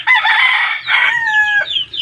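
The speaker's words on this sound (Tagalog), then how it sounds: "maingay na rin yung iba dyan, yung mga sisiw at saka yung mga inahin" Hens and chicks cluck and cheep noisily at close range, with a rooster crowing among them; the busy flock calls overlap continuously for about two seconds with no talk.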